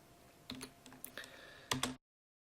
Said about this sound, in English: if you type in a word like yoga into the search bar